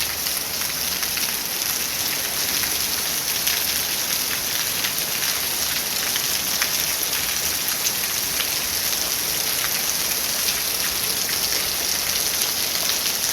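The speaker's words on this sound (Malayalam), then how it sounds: "നല്ല മഴ വരാൻ തുടങ്ങി ഇപ്പോൾ." Heavy rain in Coorg pours down steadily and loudly as an even, dense hiss of drops on surfaces throughout, with no voices.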